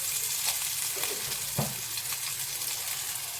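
Tomato drops into a pan of frying potatoes for a chela fish curry, bringing a steady close hiss of sizzling oil broken by a soft thump and a few stirring clicks, with no voices.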